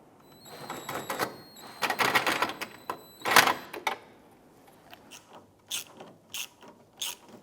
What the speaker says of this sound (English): Now we'll go ahead and get the nuts installed.